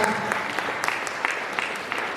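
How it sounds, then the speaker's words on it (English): School audience applause during a staff event at The Millennium School, a steady, full patter of many hands with a few sharper claps poking through, sustained and fairly close. "let's give him a big clap."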